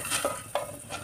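Corn kernels for popcorn are stirred in butter in a cooker, making a few quick scraping clinks of a spoon against the metal pot over a soft sizzle.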